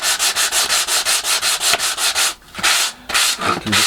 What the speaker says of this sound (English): Just give it a quick sand down